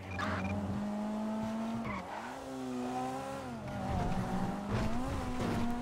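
A car in the video game GTA V spins out, with tires squealing and skidding over a steady engine drone. The whine bends in pitch as the car slides, and it stays fairly loud for several seconds.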